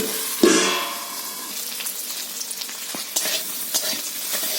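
Taro (kochu) frying in a covered pan, with a steady close sizzle, one sharp clatter near the start and a few light stirring knocks later, no voices.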